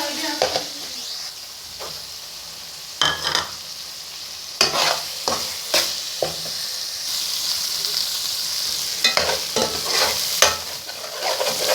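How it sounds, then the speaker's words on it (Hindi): Minced keema is stirred and fried with cumin, turmeric, salt and chili, the close sizzle broken by repeated loud scrapes and clatters of a spoon against the pan. "कीमे की बहुत अच्छी तरह से मैंने भुनाई कर ली है"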